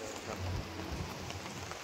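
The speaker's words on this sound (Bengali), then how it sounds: "বৃষ্টিটা হালকা হালকা পড়ছে" Light rain falling outdoors on a cloudy day at the seaside in Digha, a soft, steady patter and hiss, faint and continuous with no talking.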